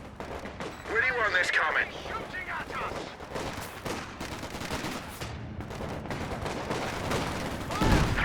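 Artillery fire in Company of Heroes 2, a World War II strategy game: repeated booming shell impacts and gunfire bursts rumble through a busy battle, fairly loud throughout, with someone talking over part of it.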